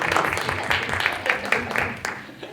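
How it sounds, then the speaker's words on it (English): A crowd claps and applauds steadily for a couple of seconds at a school committee meeting, a moderately loud burst of many hands. "we're all going to give you a little round of applause"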